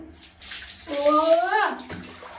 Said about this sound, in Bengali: তো আজকে স্নানটা তোমাদেরকে আমি দেখাচ্ছি কিভাবে স্নান করে